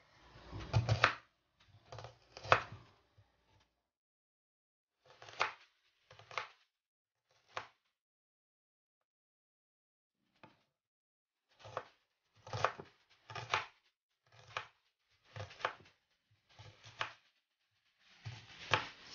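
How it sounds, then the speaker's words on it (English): A kitchen knife chops onions and garlic on a board while pork adobo is prepared, in irregular clusters of sharp dry cuts separated by pauses, fairly close and alone with no talk. "we are going to cut our onions"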